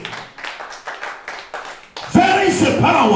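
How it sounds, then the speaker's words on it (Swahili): A church congregation claps in praise, first in a steady rhythmic beat of about eight claps, then breaking into louder, fuller clapping with voices over it. "Shangilia Bwana Yesu kwa makofi mazuri."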